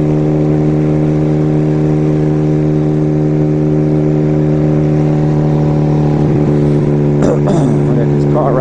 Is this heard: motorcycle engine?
yes